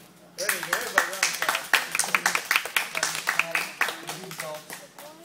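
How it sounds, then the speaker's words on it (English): Small group clapping at a martial arts yellow belt promotion, a few seconds of sharp, uneven claps with children's voices and talk mixed in throughout. "So, we're going to give him a big round of applause. So let's clap for Jake."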